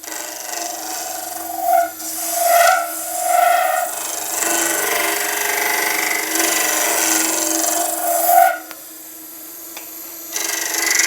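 A skew chisel cuts resin turning on a wood lathe, giving a steady scraping hiss over the lathe's constant hum, with a few swelling strokes and brief squeals of the edge.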